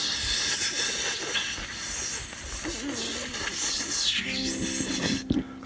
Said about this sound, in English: they'll hiss or spittle like a kettle